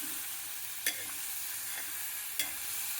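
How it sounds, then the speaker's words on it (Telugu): Onions and green chilies with ginger garlic paste sizzle steadily in a pan, a soft continuous frying hiss broken by two brief stirring scrapes. "ఉల్లిపాయలు పచ్చిమిరపకాయలు వేసి వేగిన తర్వాత అల్లం వెల్లుల్లి పేస్ట్ వేసి వేగించాము"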